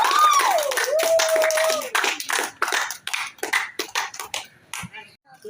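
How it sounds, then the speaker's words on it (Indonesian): A crowd applauds in scattered bursts of clapping behind the scenes at a circumcision celebration, with voices talking over it at the start. "Tepuk tangan untuk Raymond."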